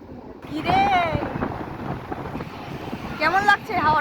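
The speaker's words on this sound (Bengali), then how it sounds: "কেমন লাগছে হাওয়াটা?" Strong wind gusts across Puri beach ahead of a cyclone, roaring and buffeting the microphone, while people talk loudly over it.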